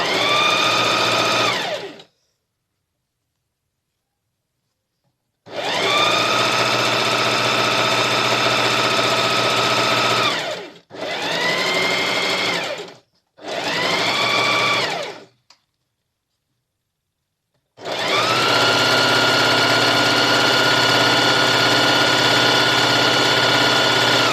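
An electric sewing machine runs in long, steady, whirring bursts while stitching disposable shoe covers, stopping for short pauses between runs, loud and close with no talking.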